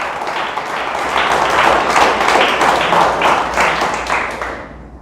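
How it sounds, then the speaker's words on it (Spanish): Church congregation applause during a sermon, a steady, moderately loud roomful of clapping with slightly uneven pulses that holds for several seconds, then tapers off at the very end. "¿Le damos fuerte el aplauso al Señor?"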